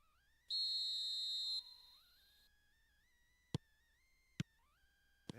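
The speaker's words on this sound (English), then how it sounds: "There's the whistle then to start the second half" Referee's whistle in a PES football video game blows to start the second half: one long shrill blast, followed by a few sharp clicks over a quiet electronic tone.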